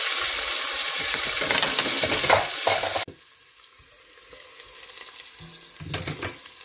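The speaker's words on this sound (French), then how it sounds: "Dans l'huile, je vais d'abord frire le yet." Yet, fermented sea snail, frying in oil for tiébou yapp, a loud, dense sizzle that suddenly drops to a quieter, softer frying hiss before flaring up again near the end.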